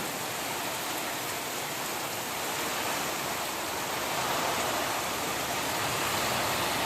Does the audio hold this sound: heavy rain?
yes